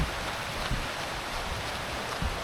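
A waterfall at Khlong Kaeo National Park, a multi-tiered cascade, gives off a steady, even rush of falling water that fills the scene without pause.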